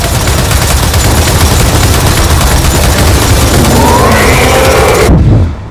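Dense, loud barrage of gunfire and booms in Gears of War 4, a continuous roar of shots and blasts that cuts off abruptly at the end.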